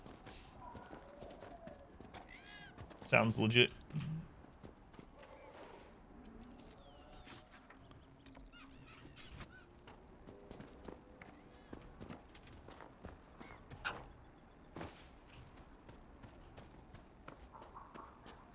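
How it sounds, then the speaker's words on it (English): Horses in the video game Conqueror's Blade run with quick clip-clopping hoofbeats and a brief neigh near the start, heard under intermittent talk and game noise. "Horses!"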